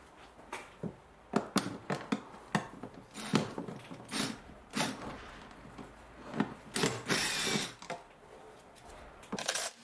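A ratchet works loose the 8mm bolts holding the pollen filter on a 2011 BMW E90 318i, sharp bursts of clicking coming in short irregular runs with brief pauses between them.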